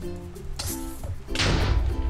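An exploding mob from the More Creatures Minecraft mod blows up, a short thud followed by a loud, sustained broadband burst of noise.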